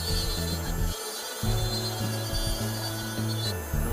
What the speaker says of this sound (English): I've just about completed that aspect of die trimming